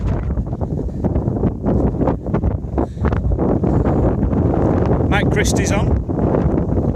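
Wind buffets a microphone on a countryside loop walk in northwest England, a steady broadband rumble and gusting roar running throughout under close conversational speech.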